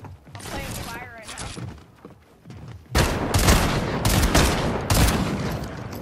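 Video game gunfire in a shooting match: a burst of shots, a pause, then dense sustained automatic fire with loud repeated cracks, under and over a talking voice.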